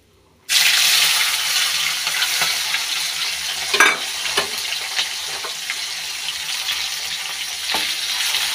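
Onions dropped into hot oil with bay leaf in a pan burst into a loud sudden sizzle, then keep frying steadily while a utensil stirs them with occasional scraping knocks.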